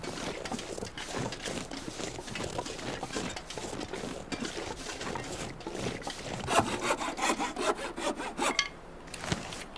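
A hacksaw rasps in The Long Dark survival game, quick repeated back-and-forth strokes running continuously and fairly loud, with a short pause near the end.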